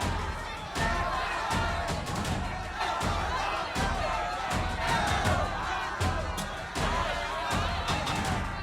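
Agitated crowd clamor in the Soviet Soldier video game, a dense continuous roar of many voices with periodic heavy thuds, loud and close throughout.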